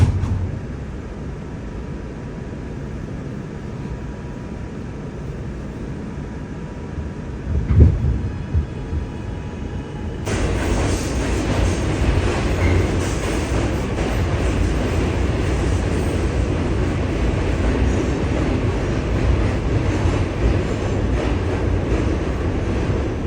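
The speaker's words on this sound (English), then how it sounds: "This is a Queens-bound A Express train." New York subway Queens-bound A Express train running, a steady rumbling rush with rail noise that jumps louder partway through as the train picks up speed, continuous and close, no talk.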